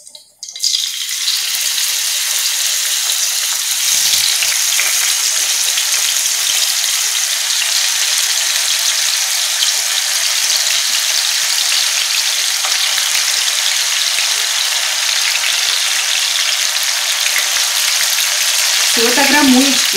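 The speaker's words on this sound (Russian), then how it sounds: "Ну вот, наша сковородочка зашкварчала." Mushrooms frying in oil in a pan on the stove, a steady loud sizzle and crackle that carries on unbroken for the whole stretch, with a brief clatter near the end.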